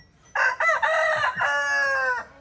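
One loud, nearby cock-a-doodle-doo from a rooster, its stuttering opening giving way to a long sustained note, with a little faint background noise.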